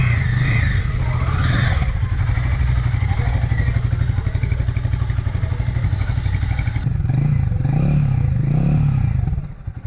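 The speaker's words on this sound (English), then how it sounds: "Now let's have a look at the exhaust note." Royal Enfield Guerrilla 450 roadster motorcycle exhaust revving close by, a steady loud throb with repeated rises in engine speed over about ten seconds, no talk.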